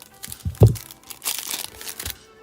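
Plastic packaging for Pokemon cards crinkles and rustles as it is snipped open, with a sharp crackling burst followed by softer crumpling close by.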